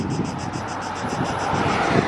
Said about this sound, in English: Max reverse thrust by the sounds of it.